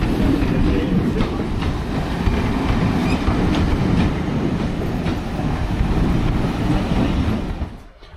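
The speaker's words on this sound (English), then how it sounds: "We're on the train looking for a seat." Passenger carriage rolling on the Llangollen steam railway, a continuous rumbling ride with rhythmic clickety-clack of wheels over rail joints, steady and close, fading out at the very end.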